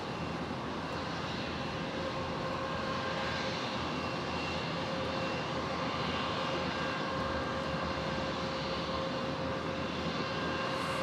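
A Dash 8 turboprop taxiing toward its departure runway, a steady droning engine hum with a faint whine, heard from a distance at an airport, constant and unbroken throughout.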